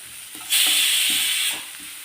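Spinach and dal curry with pepper powder mixed in a hot pan, a loud hissing sizzle that swells for about a second amid soft stirring scrapes, no talk.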